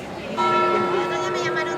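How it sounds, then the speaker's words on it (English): Church bells in Valencia, Spain ring steadily with sustained, overlapping tones over a low background murmur, continuing throughout. "the bells are still donging"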